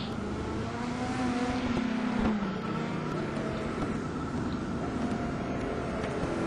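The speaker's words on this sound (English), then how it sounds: "And now we see the cars commencing the race." Race cars in a racing game roar off the grid at the start of a GT Pro race at Watkins Glen, a dense and steady engine drone that holds loud and unbroken throughout, with no voices.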